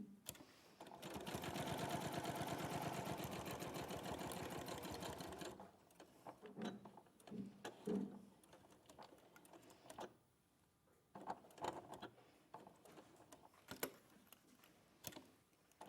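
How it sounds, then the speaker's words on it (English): Sewing machine base-stitching the sides and bottom of a fabric pocket at a quarter-inch seam allowance, a steady fast whirring run of about five seconds, followed by quieter handling clatter and soft voices. "You're basically just going to sew down the two sides and across the bottom"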